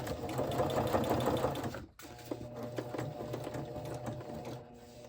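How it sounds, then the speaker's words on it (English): A sewing machine stitches a scrappy paper flip flop journal base. The motor hums in close rapid stitching bursts, pauses briefly near the two-second mark, then resumes at a steady pace, with no speech. "So I stuck it in there and I'm going to stitch."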